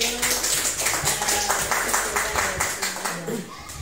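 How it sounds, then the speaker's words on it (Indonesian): Teachers in a school meeting give a round of applause, a dense burst of hand clapping from a small group that runs steadily and tapers off, with some voices mixed in. "Kita kasih aplaus untuk"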